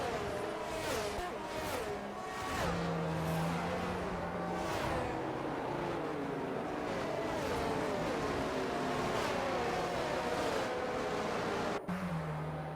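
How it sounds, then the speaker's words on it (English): Race cars weaving behind a safety car on a Las Vegas circuit in a racing video game, a steady engine drone with shifting pitch sweeps and broad rushing noise, sustained without pause and slightly muffled. "Most of the cars are weaving to warm up the tires."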